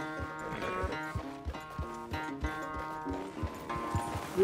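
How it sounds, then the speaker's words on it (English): Steady hoof clip-clops of a walking horse in Red Dead Redemption II over a droning musical background, rhythmic and moderately close. "where's that big mean horse?"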